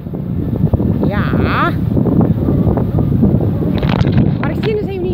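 Wind blowing outdoors on a Frisian shore near a pier, gusting and buffeting the microphone steadily across the whole stretch, with people talking over it.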